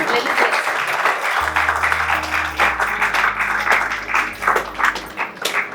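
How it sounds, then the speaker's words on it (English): Graduates and guests at a Loyola College valedictory ceremony applaud their teachers, a full, sustained round of clapping from a large crowd under a low steady hum, with some voices mixed in. "Let's give them a big round of applause to the teachers that were really worked hard for you"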